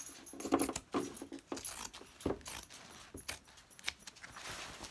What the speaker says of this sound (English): I am going to be using kinking shears to cut this